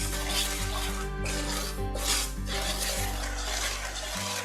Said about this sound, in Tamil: இதை நல்லா மிக்ஸ் பண்ணி விடணும். ஒரு 2 minutes வந்து நல்லா வறுக்கணும்.